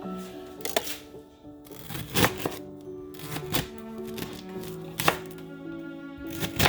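A knife chops unwashed leeks on a cutting board, making close, crisp, uneven thuds with short pauses between bursts, and no voices.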